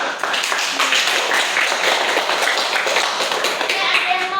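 Students in a classroom break into brisk applause, a dense, close burst of many hands clapping at once that stays loud and steady for several seconds, with faint voices mixed in.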